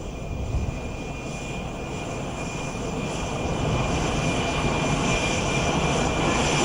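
A Tejas fighter jet's engine roars in a continuous loud broadband rush that builds slightly over several seconds, with no speech over it.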